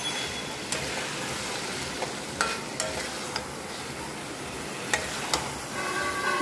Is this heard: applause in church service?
no